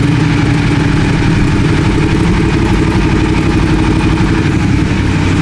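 A motorcycle engine idles steadily at close range, a loud continuous low rumble with a slight throttle rise, no voices.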